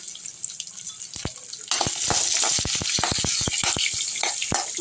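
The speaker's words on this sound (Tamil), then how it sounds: "அடுத்து சாம்பார் வெங்காயம் எடுத்து போட்டுப்போம்." Sambar onions go into a pan with dried chillies and garlic, setting off a bright steady sizzle that jumps louder midway, with repeated scraping clicks of a utensil stirring close by.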